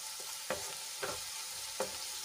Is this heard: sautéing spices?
yes